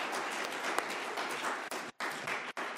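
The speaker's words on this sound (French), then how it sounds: "Je pense qu'on peut les applaudir." An audience at a podcast event applauds with dense, steady clapping that breaks off briefly and then resumes close and loud.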